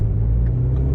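Low, steady rumble from a car fitted with a centrifugal supercharger, heard from inside while driving, loud and continuous with no distinct revs and no talking.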